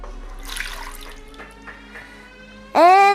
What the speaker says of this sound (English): So now we'll add some milk.